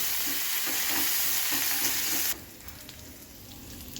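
Tempering spices with green chilli pieces and curry leaves crackle and sizzle steadily in hot oil with a few soft stirring taps, then the frying noise drops off abruptly to a quieter hiss as the stove is turned off.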